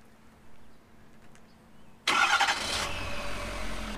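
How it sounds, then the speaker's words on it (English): A Ford 6.7 Powerstroke diesel truck engine fires up by remote start after a quiet lead-in, with a sharp cranking burst settling into a steady, close idle rumble. "so it's my remote start."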